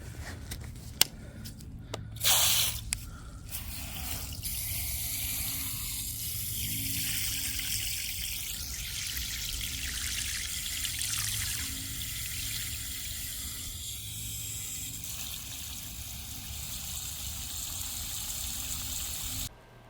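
Water washing and floating organics out of gold paydirt: a steady rushing pour of water, close and even throughout, opening with a few knocks and a brief burst of splashing.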